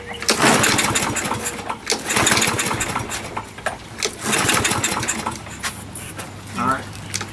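A push lawn mower with a suspected dirty carburetor is pull-started, the cord ripping in repeated loud bursts while the engine sputters briefly without catching; someone talks between pulls.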